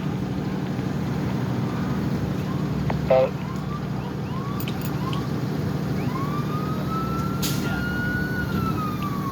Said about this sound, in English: Another ambulance coming.